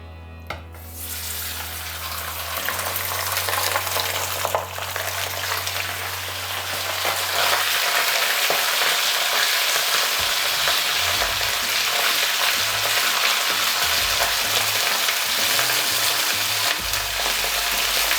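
Meat is fried in oil in a hot cauldron for plov, giving a loud, continuous sizzle and crackle that runs throughout after a brief low hum at the start, with no talking.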